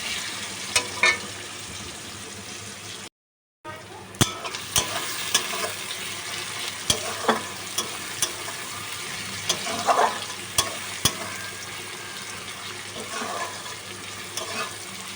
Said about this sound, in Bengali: বেশ যতক্ষণ না ব্রাউন কালারটা আসে ততক্ষণ ভাজতে থাকবো পেঁয়াজটা।